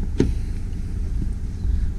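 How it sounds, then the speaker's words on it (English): The diesel engine of a 2016 Mercedes E220 CDI AMG estate with automatic gearbox runs quietly at idle, a low steady hum with a sharp click near the start and a soft knock later. "Engine's nice and quiet, as you can see there."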